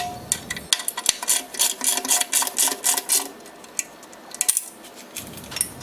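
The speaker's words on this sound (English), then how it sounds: "follow on to the 2 hardest bolts where you're going to need the 15mm spanner" Metal clicks and ratcheting clinks of a 15mm spanner tightening sump guard bolts on a Land Rover Discovery 4 underbody, a close, irregular series of sharp taps and scrapes with no talking.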